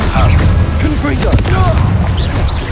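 A Confringo blasting spell from Hogwarts Legacy detonates as a loud, heavy boom in dense combat clamor, with a voice cutting through the mix.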